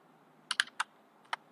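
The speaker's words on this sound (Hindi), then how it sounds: "टाइप करके सर्च कर सकते हैं" Keys on a computer keyboard are tapped in a short quiet burst of four or five crisp clicks, the last one after a brief pause, over a low hum and no speech.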